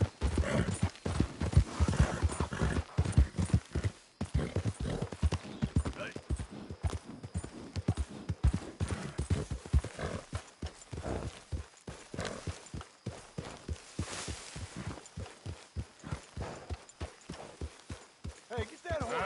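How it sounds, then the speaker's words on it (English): Horse in the video game Red Dead Redemption 2, with repeated clip-clop hoofbeats in an uneven rhythm close by, loud and continuous, with voices talking over the steps. "get that horse out of here"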